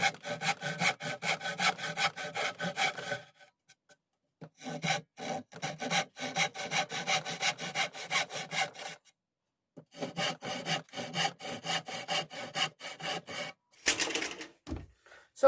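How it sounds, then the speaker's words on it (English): Hand saw strokes rasping through a wooden axe handle in steady rhythmic bursts, pausing twice between runs of close, repetitive cuts, with a brief sharper scrape near the end. "I just went down along with the saw and saw places down to the mark"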